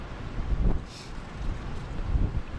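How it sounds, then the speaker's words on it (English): Strong outdoor wind buffets a microphone in low, gusty rumbles that swell and dip over a few seconds, with no voices. "apologize for the wind. It is like crazy windy out here right now."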